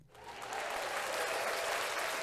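A canned burst of applause plays from a soundboard, a dense wash of many clapping hands that swells in quickly and holds steady at moderate loudness.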